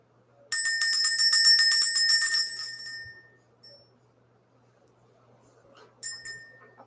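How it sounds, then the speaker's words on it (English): A small bell is rung repeatedly in a quick ringing run for about two and a half seconds, fading out, then struck again briefly near the end; used in an energy-clearing ritual, bright and close in an otherwise quiet room. "When I was ringing the bell"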